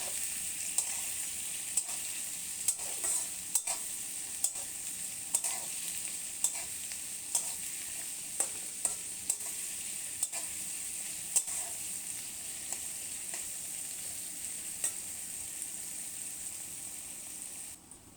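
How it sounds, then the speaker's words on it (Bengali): Desi chicken pieces marinated with turmeric, chili, ginger and garlic fry in a pan with a steady, close hiss of sizzling oil, broken by sharp clinks and scrapes as the pieces are stirred, no voices. "এখন পিসগুলোকে ভালো করে ভাজবো"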